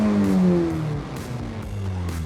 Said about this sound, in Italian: Abbiamo lo scarico omologato artigianale,